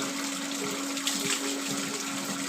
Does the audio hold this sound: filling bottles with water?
yes